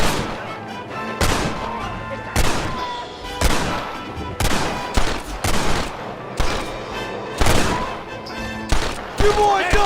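Rifle gunfire in Red Dead Redemption, loud separate shots repeating every second or so, each with a sharp crack and short decay over steady game ambience.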